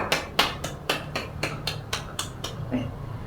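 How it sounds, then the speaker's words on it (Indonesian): High school physics students in a classroom clap in a steady run of about a dozen sharp claps, close and moderately loud, slowing and fading out at the end. "Mari kita beri tepuk tangan untuk diri kita sendiri."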